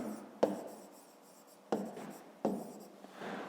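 A pen writing on paper during a fifth-grade math exercise, with three distinct scratchy strokes that each start sharply and then trail off, close and fairly quiet, with no voice.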